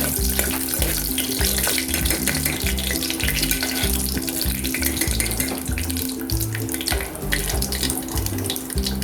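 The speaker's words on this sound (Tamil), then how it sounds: "இதில் நம்ம கொடுத்துருக்க ஹோல் ஸ்பைஸ் கொடுத்துருக்காங்க, அதை போட்டு மிக்ஸ் பண்ணிக்கலாம்" Whole spices go into a pot for Chettinad biryani and are stirred through, giving a continuous wet hiss and sputter with a steady pulsing undertone and occasional stirring clatter, close and moderately loud.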